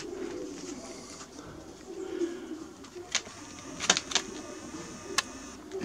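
Racing pigeons from a loft coo softly in the background, low repeated murmurs under a few sharp clicks and taps nearby, with no talk.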